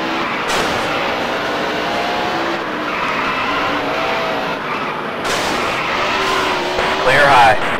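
NASCAR stock cars from NASCAR Dirt to Daytona, one spinning out in turn four: loud engine roar with skidding tire squeals rising near the end, under a spotter's radio voice calling out the spin.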